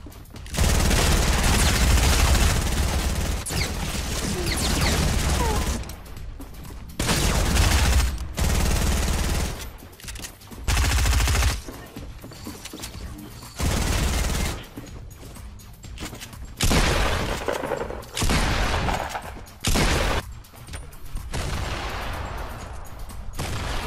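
Rapid bursts of gunfire in Fortnite Battle Royale, a loud, dense fusillade with machine-gun runs and booms, broken by short pauses across the whole stretch.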